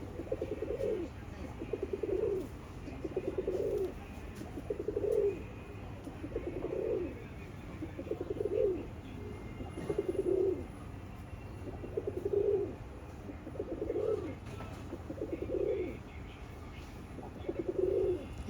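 Raj Golla pigeons cooing, a repeated low coo roughly every one to two seconds against a steady background hum, with a voice talking at moments.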